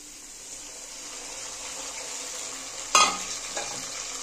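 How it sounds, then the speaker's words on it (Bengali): Fried potato and paneer pieces with poppy seed and green chilli paste are stirred in a pan, a low steady sizzle with a sharp spatula scrape and clatter near the end. "একটু নেড়ে দিচ্ছি।"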